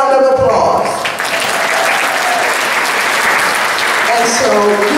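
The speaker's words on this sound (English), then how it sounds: "Another round of applause." Gala banquet audience applause, loud and sustained, a broad rushing clatter of many hands filling the room, with some voices and tonal sound mixed in at the start and end.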